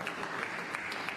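Crowd applause fills a snooker arena at the Northern Ireland Open quarter-final, a continuous dense patter of clapping at steady volume throughout, with no voices over it.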